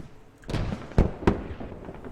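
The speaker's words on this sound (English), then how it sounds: "Here comes the fucking mortar from VCP" A mortar round exploding in the video game Squad: a spread-out blast, then two sharp, heavy impacts close together, with lighter crackling after.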